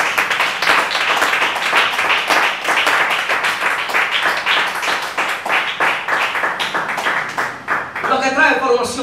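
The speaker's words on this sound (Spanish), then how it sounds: "Alguien que aplauda a Dios." A church congregation applauds God with dense, sustained clapping at a steady rhythm, and a voice comes in near the end.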